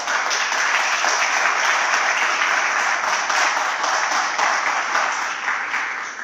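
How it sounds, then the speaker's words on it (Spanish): A church congregation applauds during a Sunday sermon, a dense, steady wash of many hands clapping together that holds evenly loud for several seconds and tapers slightly at the end. "Dale un aplauso al Señor."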